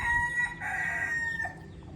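A rooster crows once as a sound effect: a loud, close cock-a-doodle-doo that rises, holds a strained middle note and trails off within two seconds, with no one speaking.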